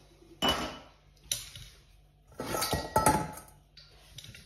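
A Thermomix cooking basket handled during chocolate mousse making, with several sharp metallic clinks and clatters of kitchenware close by in a quiet kitchen.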